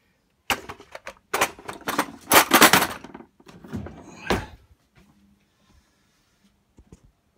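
Drawers and cupboard doors in a 2015 Palomini 150 RBS camper trailer are pulled open and shut, a close cluster of knocks, slides and thunks over a few seconds, ending in a sharp bang, then near silence.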